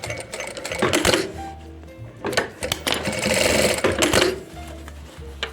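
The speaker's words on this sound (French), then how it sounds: "je suis obligée de refaire une petite piqûre pour bien maintenir" A sewing machine stitches through a fabric lining for a window pouch, running in short bursts of rapid mechanical whirring with brief pauses between runs, close and clear without any voices.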